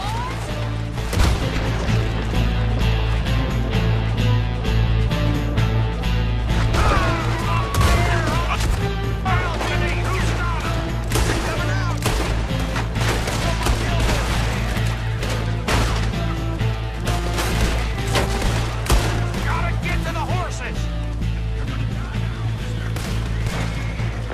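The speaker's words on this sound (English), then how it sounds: "We're shooting our way out of here," Gunfire in a Wild West shootout from the video game Red Dead Redemption 2, with dense, continuous volleys of shots and crashes over a loud, steady background score.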